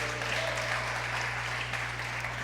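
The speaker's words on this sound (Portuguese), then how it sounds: "Dá um aplauso a Jesus aí" Applause from a church congregation fills the space, a dense continuous patter of clapping over a low steady hum.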